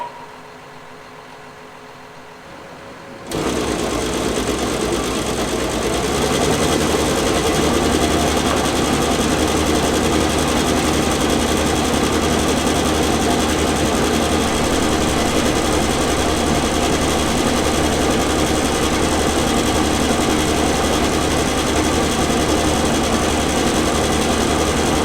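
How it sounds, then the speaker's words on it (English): A slurry tanker's vacuum pump runs with the tractor engine, a steady loud droning whir that starts abruptly after a few quiet seconds and holds constant to the end with no talk. "We got it sucking up, got it on vacuum."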